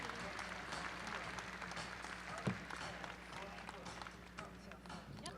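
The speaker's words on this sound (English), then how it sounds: "would you give them a nice round of applause for our third and final division in our youth teams?" An audience at a youth team competition breaks into sustained applause, a dense wash of clapping hands heard from within the crowd, with a louder thump midway and voices murmuring beneath.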